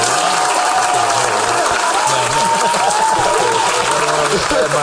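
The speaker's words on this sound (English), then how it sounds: "so a little bit of applause for her" Loud applause sound effect played during a podcast, a dense steady roar of clapping and crowd noise filling the whole stretch, with a voice talking faintly underneath.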